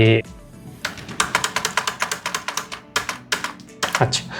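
Rapid clacking keystrokes on a computer keyboard as a prompt is typed, in uneven bursts of taps at close range, after a short opening sound.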